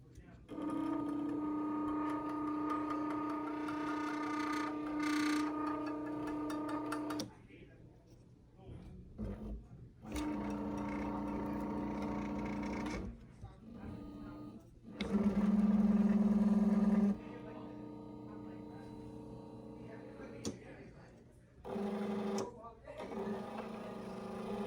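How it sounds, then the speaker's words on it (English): Motors of an Armdroid 1000 robot arm whir as they drive the differential gear setup turning the claw, in several separate runs of steady whine broken by quiet pauses and small mechanical clicks. "There's the differential gear setup turning the claw. There's actually 2 motors running right now"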